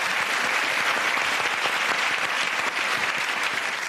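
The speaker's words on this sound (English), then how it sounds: "And a big round of applause to Kieran." A studio audience claps loudly at a comedy panel show, a dense, sustained burst of applause that stays strong before easing slightly at the end.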